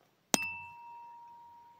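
A weighted tuning fork is struck once with a sharp metallic ding, then rings on as a steady, pure sustained tone that slowly fades, close and clear in a quiet room.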